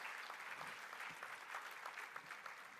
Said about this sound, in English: Please give Steve a round of applause